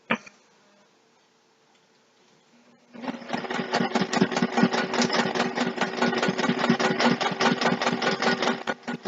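A sewing machine stitches a zipper bag at a short stitch length, starting after nearly three seconds of quiet and then running steadily with a fast, even rhythmic clatter, close and moderately loud.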